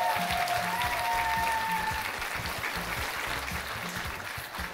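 An audience applauds steadily at a community stage show, a full, even wash of clapping that holds for the whole span and fades only slightly near the end.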